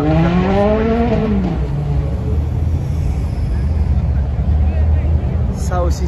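A Ferrari F12 TDF sports car roars past loudly with a rising then falling engine note as it sweeps by close up, followed by steady engine rumble, with a voice talking over it.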